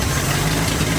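A 1973 Dodge truck engine idling at its first start, a steady, loud, rough low rumble that holds even throughout with no talk.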